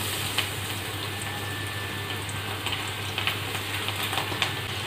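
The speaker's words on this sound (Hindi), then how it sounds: "अभी मैं इसे फ्राई कर लूँगी" Potato peels frying in smoking hot oil in a pan, a steady, even sizzle and bubbling hiss with small crackles rising now and then, close and continuous.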